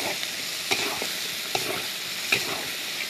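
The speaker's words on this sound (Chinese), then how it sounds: "给它们炒香，炒出颜色" Broad bean paste sizzles in hot oil with scallion, ginger, garlic, dry Sichuan peppercorns and chilies while being stir-fried, a steady crackling fry broken by a few sharp scrapes and clacks of the spatula against the wok.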